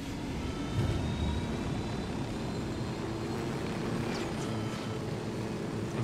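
A helicopter in Ghost Recon Wildlands, damaged after being hit by a car, drones steadily with a low rumbling engine and rotor wash, loud and continuous throughout with no talk.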